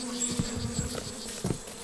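A swarm of aggressive stingless bees pours out of a large nest in a strangler fig in the Peruvian Amazon, making a steady close buzzing drone with louder swells as individual bees pass near.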